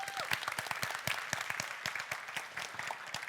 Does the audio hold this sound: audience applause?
yes